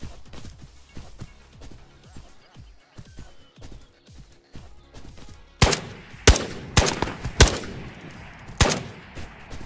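Video game gunfire: after a quiet stretch of faint clicks and footsteps, a burst of several loud, sharp shots cracks out in quick succession, each followed by a short, ringing tail.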